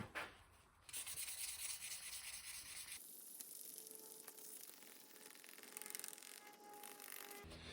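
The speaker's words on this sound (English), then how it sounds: "When you start hitting a uniform surface finish, you can feel a change in the sandpaper" A knife handle with a cast coin inlay being sanded with 2000 grit sandpaper, heard as faint, steady back-and-forth rubbing strokes close up that shift in tone partway through.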